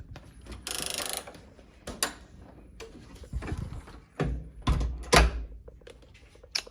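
Hotel room door at the Grand Hyatt in San Antonio, Texas, unlocked with a key card and opened: a mechanical whir and latch clunk, then several loud thuds and rattles of the heavy door swinging, close and alone.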